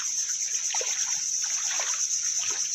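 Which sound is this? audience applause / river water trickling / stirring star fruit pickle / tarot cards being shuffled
river water trickling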